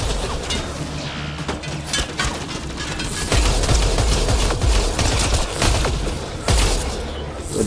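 Heavy, dense gunfire in the video game Mass Effect Andromeda, with rapid bursts and booming impacts that continue nonstop, loud and close, with only a trace of voice underneath.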